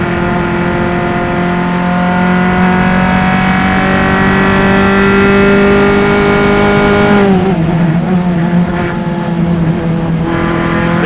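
Single-seater race cars in an SCCA club race at Mid-Ohio roar past at high speed, a loud sustained engine whine that drops sharply in pitch as they go by, with engines droning on afterward.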